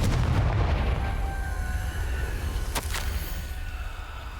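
Confringo blasting spell in Hogwarts Legacy, a deep rumbling explosive boom at the start that rolls off into a lingering low roar, with a sharp crackling burst partway through.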